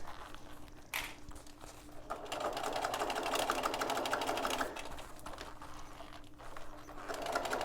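A sewing machine stitches close along piping cord, running as a steady rapid whir for several seconds, near and fairly quiet, with brief pauses at the start and a faint hum of the room beneath.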